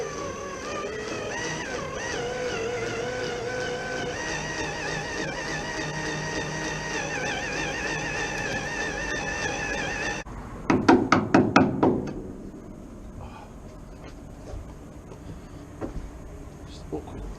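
A cordless drill whines steadily up close for about ten seconds while drilling out spot welds on a Classic Mini sill, then stops, followed by a short burst of metallic clunks and knocks.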